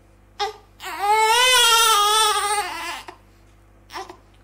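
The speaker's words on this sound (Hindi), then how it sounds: "वहाँ पे जो बच्चों की आवाज़ आ रही थी ना वो मैं भी तुम्हें अभी सुना सकता हूँ" A child cries loudly in a long, wavering wail lasting a couple of seconds, with brief whimpering sobs before and after.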